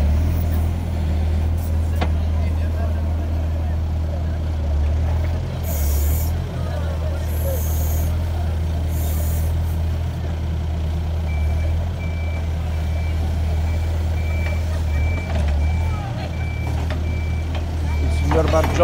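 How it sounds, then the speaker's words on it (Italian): A heavy log-cutting machine grabs and sections tree trunks with a deep, continuous engine rumble, joined by bursts of hissing air and a repeating high beep under distant voices at an outdoor timber yard. "ci dà una dimostrazione di questa macchina che prende i tronchi e li taglia, li seziona"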